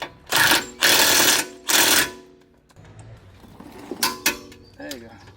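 Ratcheting torque wrench tightening a bolt to 74 foot-pounds on a Volvo XC90 during CV axle replacement: three loud, dense bursts of rapid clicking in the first two seconds, then quieter clanks, taps and light mechanical handling.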